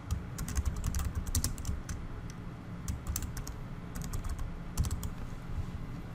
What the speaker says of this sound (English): type in a note